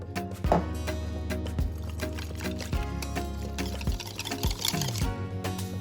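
Water poured onto corn flour in a bowl and whisked into a batter for breading halloumi cheese, giving close liquid splashes and rhythmic scraping taps against the bowl, with a steady low hum behind.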